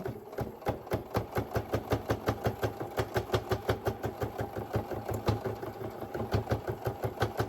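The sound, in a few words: sewing machine needle puncturing batting and quilting cotton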